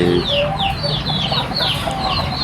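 Fighting cocks cluck in a steady, busy chorus at evening feeding time, with overlapping calls from several birds close by and continuous farmyard background noise.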